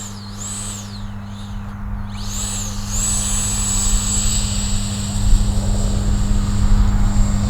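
An Arrows RC Marlin 64mm electric ducted fan jet spools up for takeoff from a grass field, a loud, rising turbine-like whine with steady high tones and sweeping pitch changes, growing stronger toward the end.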